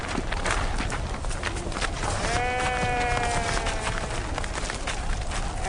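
Sheep bleat in a pastoral scene after a wolf attack on the flock, a drawn-out wavering cry rising over constant dense noise that resembles wind or a crowded herd, with no talk.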